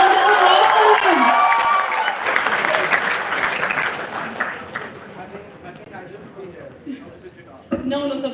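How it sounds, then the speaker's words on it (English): A conference audience at an HR conclave breaks into loud applause that gradually fades over several seconds, with a voice speaking over the clapping and a brief thump near the end. "Guys, please round of applause for him."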